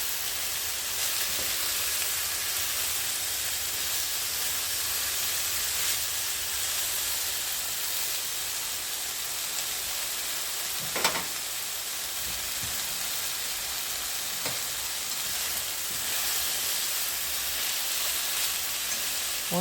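Chicken frying in a pan gives off a steady, soft sizzle and hiss that runs throughout at low level, with a few faint clicks and no talking.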